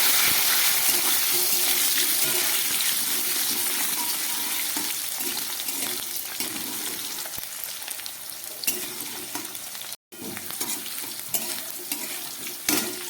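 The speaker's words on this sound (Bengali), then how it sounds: "আলুটাকে আমি একটু ভালো করে ভেজে নেবো" Potatoes fry in hot oil alongside two green chillies for a Bengali fish curry, giving a steady, close sizzle with scraping and stirring, a brief cut near the tenth second, and no voices.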